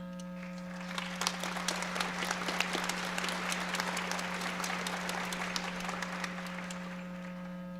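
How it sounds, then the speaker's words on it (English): Applause fills a high school commencement hall for the class of 2022, a dense crowd clapping evenly for several seconds with sharp individual claps poking through, moderately distant and steady before fading slightly at the end. "Again, please hold your applause."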